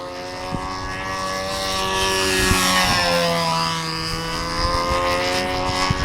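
A control line aerobatic model plane's small glow engine flying laps: a high, buzzing propeller whine that rises and falls with a Doppler sweep as the plane circles, close and continuous, with no talk.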